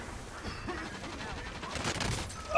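Gunfire in the video game Call of Duty Warzone, a continuous crackle of rapid shots from more than one direction, moderately loud and steady.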